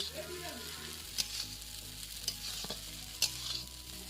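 Chow mein sizzles while being stir-fried in a wok, a utensil scraping and clanking against the metal every second or so, with a steady low hum underneath.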